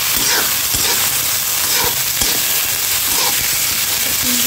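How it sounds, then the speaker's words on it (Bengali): Malabar spinach flowers cook in a hot pan with a loud, continuous frying hiss and sizzle, broken by a few faint stirring knocks, heard close up with no voices. "এখন রান্না করবো হলো পুঁই শাকের ফুলগুলো।"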